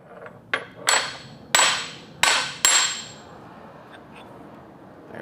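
Hammer blows on a top tool pressing a domed copper coffee scoop out at an anvil: five sharp metallic strikes in an uneven rhythm, loud and close, each ringing briefly before fading into quiet.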